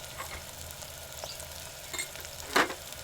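Ground spices dropped into a hot pan with tomato, coriander and garlic, frying with a soft continuous sizzle while a spoon scrapes and stirs, with one sharper scrape near the end; close and fairly quiet, no talking.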